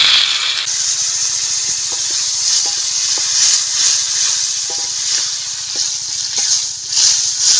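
A little water hits a hot pan during potato cooking and releases a loud, steady hiss of steam and sizzle that fills the whole stretch, close up, with faint small clicks beneath.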